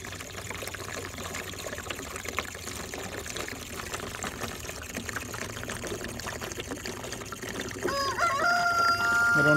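DEF fluid poured through a nozzle into the tank of a Mercedes Sprinter van: a steady, continuous pouring wash that grows louder near the end.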